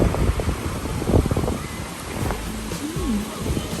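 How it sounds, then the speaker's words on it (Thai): Waves at a Melbourne surf beach known for high surf roll in as a broad, constant wash, mixed with heavy wind rumble on the microphone and a voice briefly heard. "คลื่นจะสูงมากเลย"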